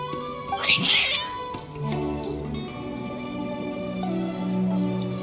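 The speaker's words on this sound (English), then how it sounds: "Your cats seem pretty worked up." Cats in the video game Genshin Impact give a clear, agitated meow early on, followed by quieter cat sounds over a steady tonal game soundtrack.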